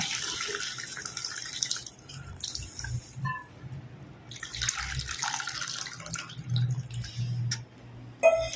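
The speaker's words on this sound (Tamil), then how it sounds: "இது புளி கரைச்ச தண்ணி இதையும் ஊற்றிக்கலாம்" Tamarind water pours steadily into a pot of curry, a continuous splashing trickle with brief pauses and small drips, close by and fairly quiet.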